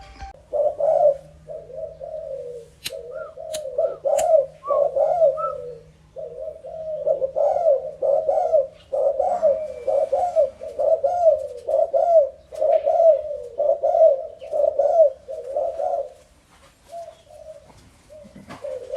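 Young doves at an outdoor practice field coo in a long, steady series of soft, rhythmic calls, close and clear, with brief pauses between phrases.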